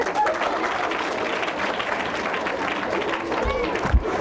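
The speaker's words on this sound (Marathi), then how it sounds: "तिच्यासाठी जोरदार टाळ्या" A studio audience gives a contestant loud, sustained applause for a correct answer, with dense clapping filling the whole stretch and a couple of heavier thumps near the end.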